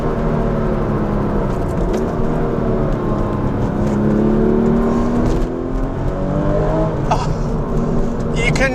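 Porsche 996 GT3, the first water-cooled 911 GT3, accelerating hard out of corners, its engine note rising and sweeping through the revs continuously and loudly from the cabin, with a brief lift near the end.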